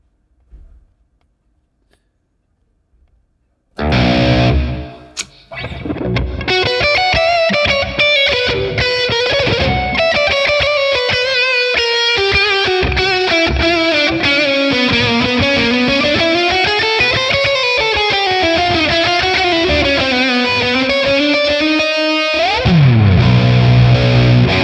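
Heavily distorted electric guitar, a seven-string or Les Paul, played through a high-gain Amalgam Audio Tonex amp capture with reverb: a sustained, thick lead line of bending, sliding notes over chugging chords for about twenty seconds after a quiet start, loud and alone.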